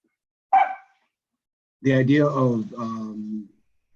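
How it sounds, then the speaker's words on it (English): A dog barks during an online meeting, one short bark and then a longer burst of barking, close and fairly loud. "There's an interference, some dog or something?"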